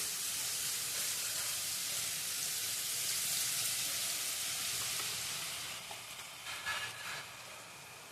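Boondi batter frying in hot oil for colourful boondi laddoos, a steady loud sizzle and hiss close up that eases slightly toward the end, with no voices.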